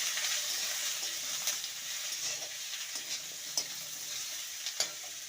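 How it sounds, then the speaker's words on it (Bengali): Pointed gourd (parwal) and potatoes fry in a pan with a steady, moderately loud sizzle and crackle, broken by a few sharp stirring clicks and scrapes, with no voices. "পটলটাকেও মিনিট দুয়ে ভেজে নিলেই এটা ভাজা হয়ে যাবে"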